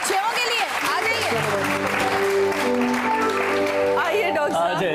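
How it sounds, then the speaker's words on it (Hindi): Studio audience applause fills the stretch as a steady, dense clatter of clapping on a TV entertainment show, with a host's voice and background music running over it throughout. "तालियां छहों के लिए।"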